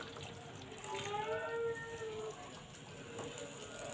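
Soup is poured from a bowl over freekeh, a quiet liquid splash and gurgle that briefly rises in pitch, then settles into a faint trickle.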